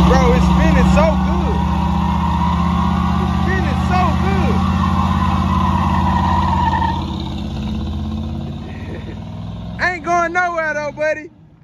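A 1983 box Chevy spinning its tires, the engine held at a loud, steady roar with whining tire spin, then easing off as people shout and talk over it near the end.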